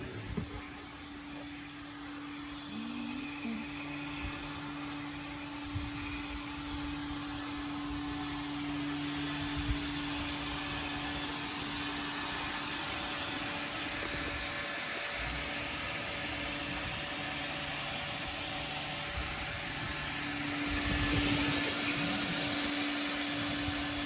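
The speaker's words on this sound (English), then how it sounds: "we are done vacuuming out the truck" A vacuum cleaner runs steadily while cleaning out a truck interior, a constant loud motor whine with bumping and suction noise as the nozzle moves, swelling slightly near the end.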